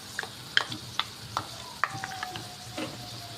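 Sweet-sour curd stirred into chillies in a pan makes soft, irregular scraping clinks of a spoon against the vessel over a faint sizzle, close and unhurried, with no speech.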